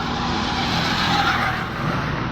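Steady roar of traffic along the Calax (Calamba Laguna Expressway) highway, heard from the roadside as continuous broadband road noise with no distinct single vehicle standing out.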